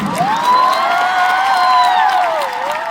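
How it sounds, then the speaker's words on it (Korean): A concert crowd at a show cheers and applauds loudly and continuously, with high shrieks and whoops rising over the clapping throughout. "박수 좀 쳐주고 좀."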